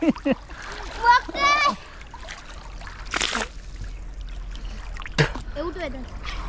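Swimmers splash in a Konkan river, with bursts of close splashing and trickling water mixed with children's and adults' voices calling and talking nearby.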